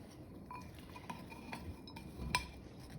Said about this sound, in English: I'm just gonna stir that around so everything's coated